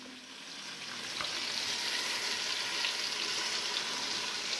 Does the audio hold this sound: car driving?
no